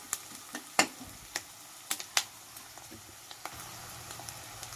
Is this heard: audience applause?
no